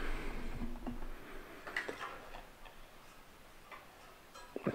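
Metal stove head being threaded by hand onto an Ozark Trail single-burner propane stove, a run of faint, quick ticking clicks, close and quiet, with no voices.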